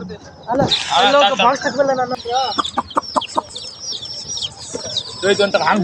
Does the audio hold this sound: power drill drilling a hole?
no